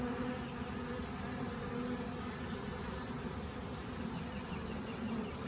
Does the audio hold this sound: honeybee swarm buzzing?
yes